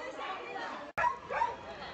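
German shepherds and other dogs at a dog market bark and yelp from a short distance over a steady crowd murmur, with a brief cut in the middle.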